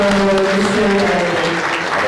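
Audience applause at a public speaking event, a steady wash of clapping heard beneath a voice speaking over it throughout.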